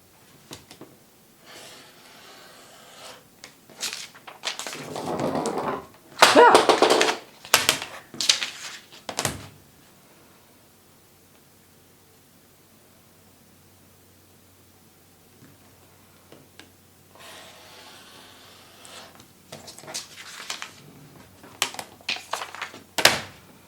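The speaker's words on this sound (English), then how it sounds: "I'm going to cut out the shapes" Scissors cut through paper while paper-pieced quilt shapes are trimmed, giving bursts of crisp snipping and paper rustling close by, separated by a long quiet pause.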